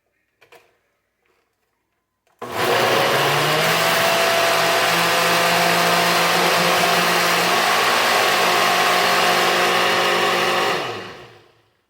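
A kitchen blender whirs into a loud, steady drone blending sweet potato pudding mix for a Jamaican dessert, starting abruptly after a few faint knocks and running evenly for about nine seconds before winding down.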